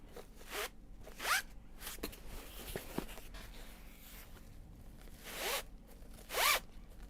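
Zipper tape being pulled out in long rasping zips from a stock of tape for large box bags made from Japanese fabrics, several close, loud strokes with quieter handling rustle between them.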